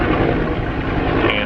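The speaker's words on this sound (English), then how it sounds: "there's a helicopter flying overhead" A helicopter flies overhead in the Jurassic World Alive mobile game, a loud, continuous rotor-and-engine rumble that stays steady throughout.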